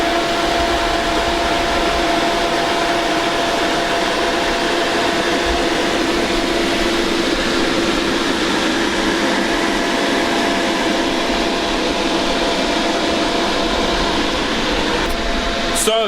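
Four welding machines run together at close range, a loud steady electrical hum and broadband hiss with a constant tone, unbroken for the whole stretch until a brief click near the end.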